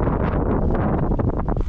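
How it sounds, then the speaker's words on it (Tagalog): Strong typhoon wind gusts buffet a farm watermelon field, a loud continuous rushing roar pressing against the microphone with no pause. "mahangin"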